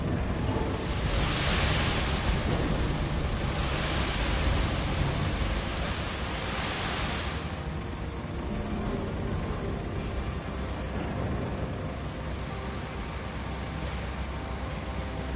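Truck dumping its load in the video game Roadcraft, a broad continuous rushing roar like pouring gravel that runs steadily throughout and eases slightly about halfway, with no talking over it.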